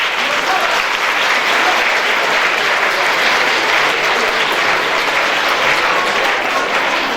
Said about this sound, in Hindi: उसके लिए एक बार फिर से ताली।